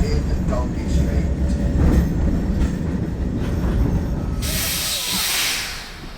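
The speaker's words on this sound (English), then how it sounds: "Coming into our next tram stop here in Donkey Street." The Auckland Dockline Tram rolls along and arrives at a stop on its city route, a steady near rumble with rattles and squeaks, ending in a broad hiss as it comes to a halt.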